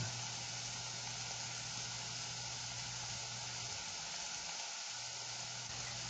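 Steady, dense sizzling of pork frying in a hot pan, continuous and close, with a low hum underneath that drops away near the end.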